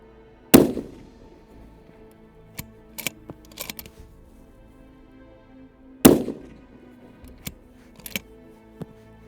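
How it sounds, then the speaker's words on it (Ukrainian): Two sharp, loud rifle shots at a stove target roughly six seconds apart, each ringing out briefly, with faint clicks and small knocks scattered between them, in a light breeze. "Я стріляю в грубку."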